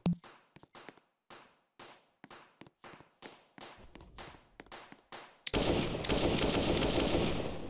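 Rapid AK-47 bursts in the video game Breaking Bad Tycoon: about a dozen sharp, loud single shots in quick succession, then a dense continuous roar of automatic fire.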